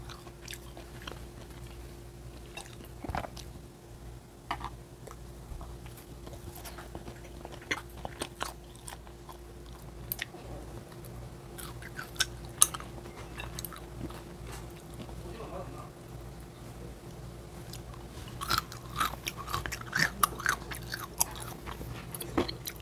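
Unseasoned jokbal, braised pig's trotters, being chewed up close: soft wet bites and sticky smacking run throughout, with sharper crunchy clicks and bursts scattered along, over a faint steady hum.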